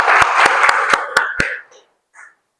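A classroom group claps in a brief, close burst of six or seven distinct hand claps in a steady rhythm over a murmur of voices, then a short silence and a faint voice afterward.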